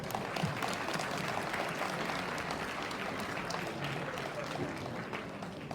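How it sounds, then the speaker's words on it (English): Faint, even applause fills a graduation ceremony hall for graduates and award recipients, a steady wash of distant clapping with no break. "A loud shout out and a round of applause to all our wonderful and marvelous graduates and award recipients."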